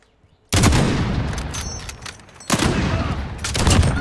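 Video game gunfire erupts in loud, dense bursts of rapid shots, with a brief lull before a second sustained volley, all close and with no talking.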